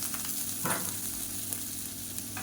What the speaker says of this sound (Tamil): இப்போ இதையும் சேர்த்து நல்லா வதக்கி விட்டுக்கலாம்